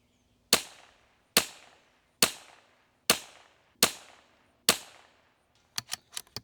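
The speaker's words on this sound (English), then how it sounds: "On the right side of that big circle plate, we're gonna be shooting at that." Rifle fire from an IBI Deuce 2.0 aimed at a steel circle plate: six loud, evenly spaced single shots, each followed by a decaying echo. A few quick, fainter clicks or pops come at the end.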